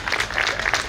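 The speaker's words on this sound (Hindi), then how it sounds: "चलिए तालियां बजाइए इनके लिए।" Brief burst of audience applause at a lecture series event, a short dense patter of clapping heard alone and close.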